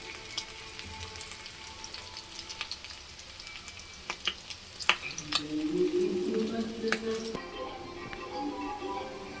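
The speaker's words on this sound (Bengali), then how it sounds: "এবার আঁচটাকে সিম করে দেবো, সিম করে ভাজবো লো টু মিডিয়াম" Potato and maida snack frying in a pan over low-medium heat, a steady soft sizzle with a few stirring clatters, building slightly louder toward the end before a shift in tone near the close.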